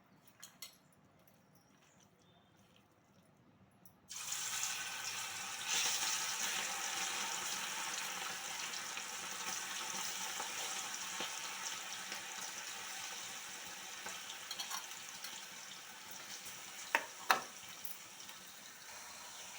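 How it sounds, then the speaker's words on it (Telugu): Chicken pieces dropped into hot oil for a simple chicken pickle set off a loud, steady sizzle and crackle that jumps in suddenly after a few quiet seconds and carries on evenly, with a couple of brief sharp pops near the end. "ఆయిల్ హీట్ ఎక్కింది. ఇప్పుడు చికెన్ వేసుకుందాము"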